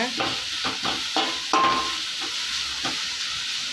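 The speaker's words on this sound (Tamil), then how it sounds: "கேரட் துருவலை ஆட் பண்ணிக்கோங்க. ஆட் பண்ணி நல்லா கிளறி விடுங்க." Grated carrot stirred and fried in a pan with mustard seeds and curry leaves for carrot poriyal, a steady close sizzle broken by several scraping stirs of the spoon, with no voices.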